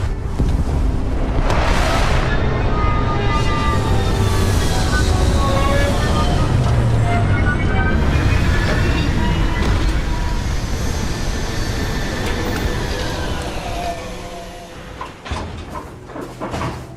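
A spaceship setting down in Starfield gives a loud, sustained engine roar with rising and falling whines. It rumbles steadily for most of the stretch, then fades near the end into quieter mechanical clunks.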